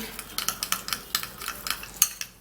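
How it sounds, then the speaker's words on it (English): A spoon stirs a mixture in a bowl, a rapid series of light clinks and scrapes in quick rhythm, close and fairly quiet. "stirring this all up, and it looks really nice"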